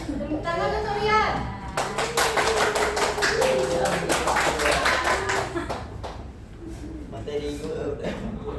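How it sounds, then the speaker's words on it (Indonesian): Students in a classroom clap in a burst of uneven, rapid hand claps lasting several seconds, with children's voices and a teacher's speech before and after. "Tepuk tangan untuk Rian."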